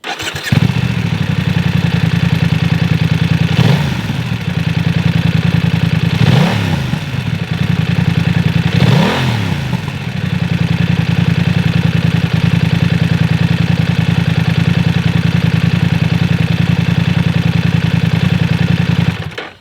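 A deep, steady BMW F900R motorcycle exhaust rumble idling up close, with a few brief revs swelling early on before settling back into a constant low throb.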